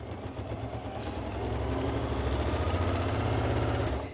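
A Janome sewing machine stitches quilt binding in a fast, even mechanical whir that continues steadily and softly before easing off at the end.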